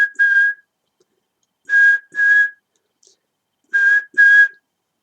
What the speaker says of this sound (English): Sound of a Starfleet bridge for the second.